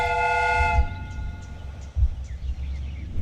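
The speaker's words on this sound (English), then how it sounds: "The steam whistle is ready to be used." A steam whistle on a train replica in the Sherlock Holmes: Crimes and Punishments video game sounds one loud, sustained multi-tone blast that cuts off, followed by low rumbling and clanks.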